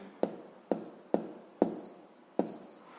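A pen writes on paper in five quick, sharp strokes, each a crisp scratch with a soft tail. The strokes are close and quiet against a near-silent room.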